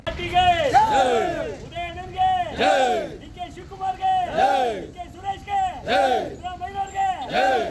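A crowd of party workers loudly chants rhythmic victory slogans for CP Yogeshwar at an outdoor celebration in Mandya, with repeated bursts of shouted cheering rising and falling in waves.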